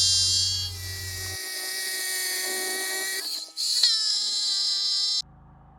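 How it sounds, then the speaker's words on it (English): A hammer drill whines steadily at a high pitch as it bores into a wall to set red head anchors for deck stair boards. It dips briefly and then resumes before stopping. "I use this hammer drill and I put in these red heads here"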